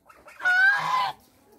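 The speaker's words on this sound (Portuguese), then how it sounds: "Essa última imagem do ganso João." A pet goose named João gives a single loud, nasal honk on a backyard poultry farm, brief and close, with quiet surroundings before and after.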